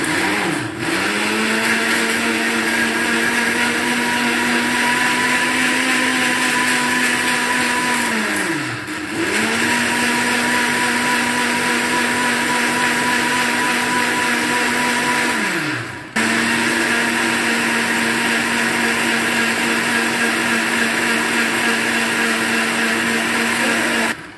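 Flour and butter are ground in an electric blender for crepes. The motor whirs loudly and steadily in three long runs, briefly dipping in pitch between them as it slows and starts again.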